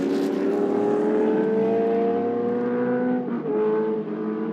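Historic race car on a circuit passing by, a loud sustained engine drone with steady harmonic tones that sweep down in pitch as it goes past, no voices.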